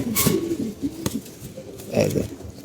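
A tal-diseased pigeon of a Bangladeshi fancy breed coos softly at close range in short bursts, with someone talking over parts of it.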